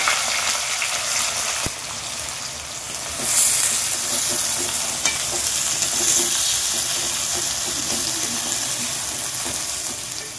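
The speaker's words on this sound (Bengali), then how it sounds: "আমি যে পেঁয়াজগুলো কুচি করে রেখেছিলাম সেই তেলের মধ্যে দিয়ে দেবো সব পেঁয়াজগুলো বেরেস্তা বানানোর জন্য।" Chopped onions are tipped into hot oil and fry for a chicken biryani, a loud continuous sizzle and hiss with a brief louder burst early on, steady and close with no voices.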